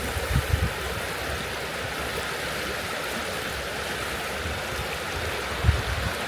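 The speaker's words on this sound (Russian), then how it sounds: "лучше давайте еще немного послушаем реку" River water flows steadily through a forest on the Patmalnieku nature trail in Latvia, a continuous broadband rush with no talk, holding even throughout with a couple of small splashing bumps.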